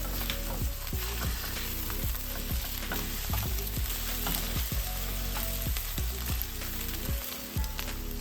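Vegetables and eggs frying in a pan, a loud continuous sizzle with repeated scraping and clattering strokes as the mix is stirred, close and busy throughout with no talking.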